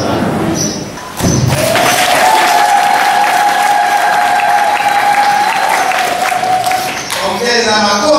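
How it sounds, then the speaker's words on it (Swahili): Loud, sustained applause from a church congregation at an Easter service, dense clapping running for several seconds after a brief pause, with a held sung or voiced tone and crowd noise beneath. "Ongeza makofi"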